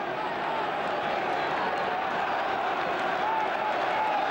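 A football stadium crowd in the 1997/98 Arsenal v Manchester United match applauds fullback Nigel Winterburn, a steady, dense wash of distant clapping and murmur filling the ground with no break.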